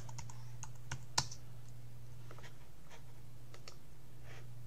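Computer keyboard typing, a sparse run of faint, irregular key clicks with one sharper tap, over a steady low electrical hum.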